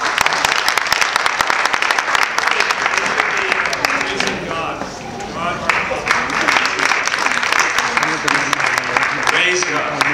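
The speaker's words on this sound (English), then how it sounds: "Let's all give him a giant round of applause" An audience applauds continuously at a talk on marijuana, a dense, loud wash of clapping that runs through the whole stretch, with some voices mixed in.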